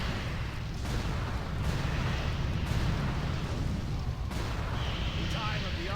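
Turret fire in World of Warcraft during a fight with dragons: a steady barrage of heavy booming blasts and rumbling explosions rolls on continuously, loud and dense.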